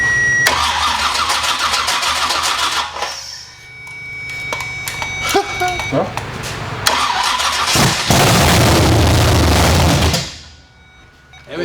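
A 1971 Chevrolet Nova's big-block Chevy engine cranks and roars to life, revving loudly up close, then settles before cutting out near the end.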